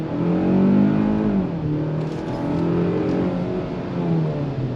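A 2025 Hyundai Tucson Limited compact SUV accelerates on throttle, its engine rising in a smooth, sustained whir heard from inside the cabin, with pitch climbing and easing through gear changes and no talking.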